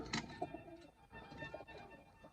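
Close pigeon cooing from a male in a paired couple of pigeons being shown off, soft throaty coos repeating in short bursts with no talking.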